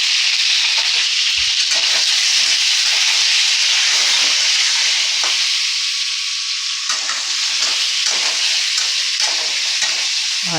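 Pointed gourd frying in a pan with turmeric and salt, a loud, continuous close-up sizzle and hiss with light stirring scrapes throughout, no talking.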